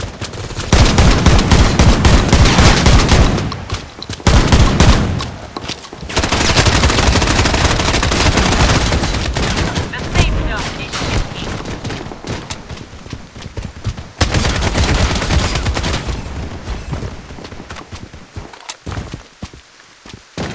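Automatic weapons in the shooter game Project Blood Strike fire in dense, sustained bursts with short pauses between, loud and close, alongside other game effects and occasional footsteps.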